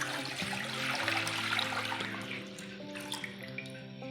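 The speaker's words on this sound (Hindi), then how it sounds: "एक जग में ये पानी का भर के ले लिया है, ये मैं इसमें डाल दूंगी" Water poured from a jug into a cooking pot, a steady close splashing that fills the pot, with a continuous low hum running underneath.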